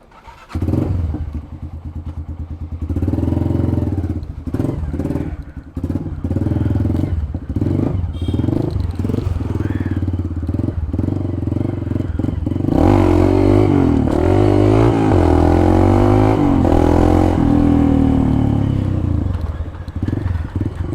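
A Hero Honda Impulse motorcycle fitted with a K&N air filter rides along, its engine droning close and steady with rises and dips in pitch as it accelerates, plus some clatter and wind buffeting; no talk is heard.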